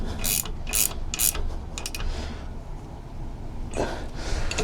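A ratchet wrench with a 13 mm socket snugs down bolts on a Torqmasters LunchBox locker being installed in a 14 bolt axle, giving several quick, close clicking bursts separated by short pauses.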